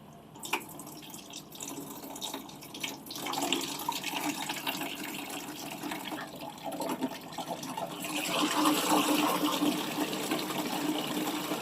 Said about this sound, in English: there's a lot of water coming out